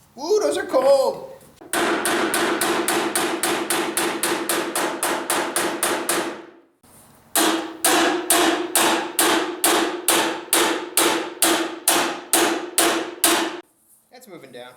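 Rapid, evenly spaced steel hammer strikes clang on the metal body of a Ram truck in two long bursts of ringing hits, preceded by a brief voice and separated by a short pause.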